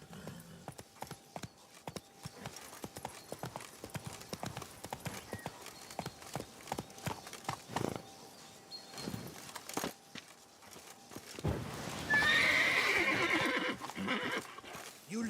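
Roach, the horse in The Witcher 3, clip-clops along in a steady walking rhythm of hoofbeats, then lets out a loud whinny near the end, with game ambience underneath.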